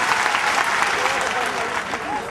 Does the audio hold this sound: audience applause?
yes